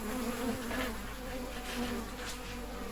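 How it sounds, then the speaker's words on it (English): Swarm of bees buzzing steadily around the broken top of a hollow tree, a dense, continuous drone close to the microphone with no voices. "Quite a few bees were left flying around the top of the tree"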